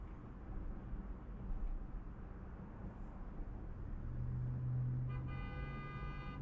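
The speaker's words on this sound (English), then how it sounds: "Now there's someone honking at me." A car horn honks at a driverless robotaxi on a Los Angeles street, a sustained tonal blast rising late over steady traffic and road rumble from inside the vehicle.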